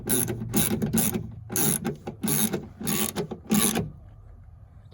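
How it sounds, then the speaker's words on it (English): Ratcheting 10mm tool tightening the side mirror screw on a Toyota Prius, six quick clicking bursts in a steady rhythm up close, then stopping. "And then we'll put the screw back on in there."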